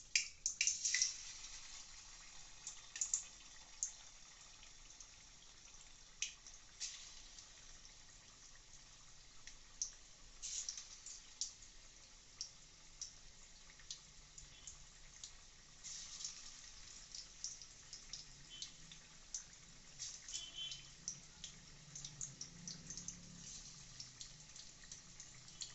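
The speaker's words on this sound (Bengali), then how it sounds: "এরপরে দেখুন আস্তে আস্তে আমরা চিকেনগুলো সাথে তেলে ছেড়ে দিচ্ছি কড়ার তেলে" Chicken pieces for chilli chicken are slid into hot oil in a wok, making a quiet, continuous sizzle with scattered crackles and small pops throughout.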